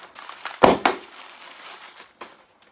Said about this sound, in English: You get some bubble wrap.